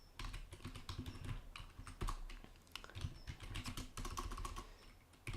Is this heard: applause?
no